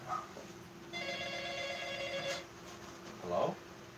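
A telephone rings with a steady electronic warble lasting a couple of seconds, fairly loud against a quiet room, followed by a brief rustle or voice-like burst near the end.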